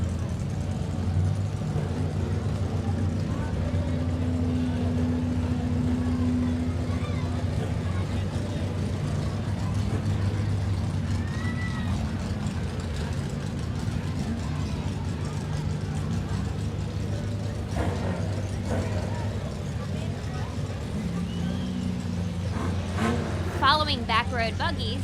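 Rail cars and VW buggies of the Back Road Buggies club drive in a town Christmas parade, a steady low engine rumble and idling drone throughout, with crowd voices and talk over it.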